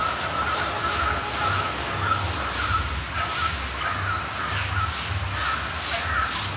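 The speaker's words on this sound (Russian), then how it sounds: "Там птицы летают вокруг дрона" Crows caw again and again in an uneven rhythm over a steady low drone hum, fairly loud and close, in Ella, Sri Lanka.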